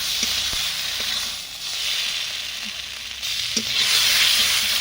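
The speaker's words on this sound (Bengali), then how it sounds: "ভালো করে মশলাটা ভেজে নেব" Spice paste with salt frying in oil in a pan for a river bhola fish tel jhal: a steady, close hissing sizzle that swells and eases, punctuated by a few light stirring scrapes, with no speech.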